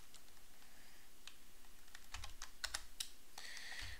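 Keystrokes on a computer keyboard while a Linux terminal command is entered, a sparse run of sharp clicks that builds into a quick burst near the end, close and clear over a steady background hiss.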